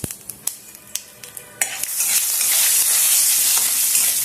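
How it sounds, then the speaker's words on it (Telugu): Cumin, asafoetida and mustard seeds tempering in hot oil, first a few sharp separate pops and crackles, then a loud continuous close sizzle that fills the rest. "ఆవాలు చిటపటం అనేసరికి ఇంకా పోపు వేగిపోయినట్టే"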